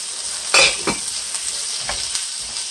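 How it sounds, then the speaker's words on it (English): Onions and bell peppers sautéing in a pan, a steady soft sizzle with a few louder scrapes of stirring, close up and with no talking. "we'll go back to our sauteing here"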